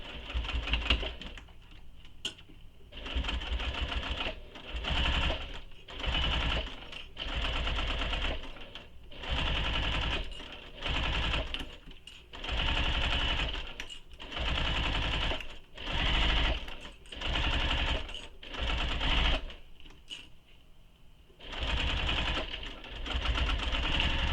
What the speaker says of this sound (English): Make sure you back stitch at start and stop.